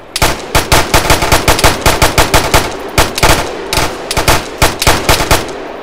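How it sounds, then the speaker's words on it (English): Gunfire in the military shooter Arma 3, a long run of loud, sharp shots in quick irregular bursts, some close together and some spaced, with no voices over them. "I'm using a frickin' pistol"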